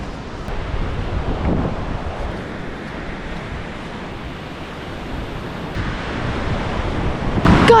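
Waves and wind on an empty beach where someone is surf fishing: a constant broad roar of surf with wind buffeting the microphone, fairly loud and steady throughout, and no voices.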